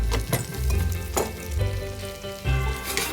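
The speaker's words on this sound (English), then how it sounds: "now we're just going to wilt some spinach" Spinach wilting in a pan of sage butter with pumpkin gnocchi, a steady close sizzle and frying crackle with a few stirring bursts, no voices.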